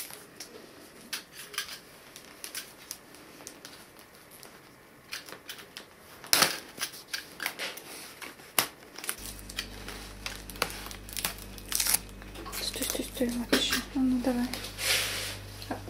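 Tape and wrapping crackle and rustle in uneven bursts as a taped parcel holding a Beallara orchid is opened by hand, with a steady low hum entering partway through and people talking quietly nearby.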